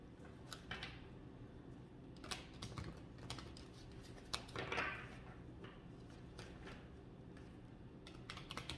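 Tarot cards being shuffled close by, soft quick riffling ticks and brushing slaps in uneven bursts, faint and alone in a quiet room.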